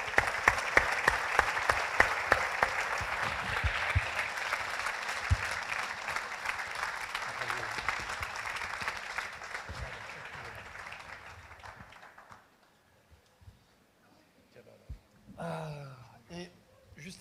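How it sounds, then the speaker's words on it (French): Sustained audience applause at an evening conference in Paris greets the host speaker, loud and dense for about twelve seconds before fading out, followed by faint voices and a brief burst of sound near the end. "Je vous demande de l'applaudir."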